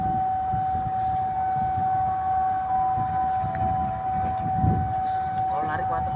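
Red-blue locomotive 8348 passing a crowd of railfans, sounding one loud, steady horn note held for the full length over a rumbling train and background noise.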